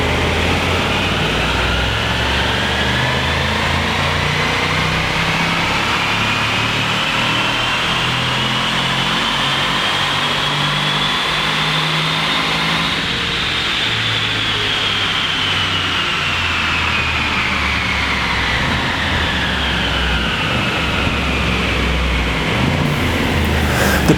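A tuned Jaguar engine pulls hard on a dyno, its pitch rising in one long sweep, easing off, then climbing again, loud and constant with no talking.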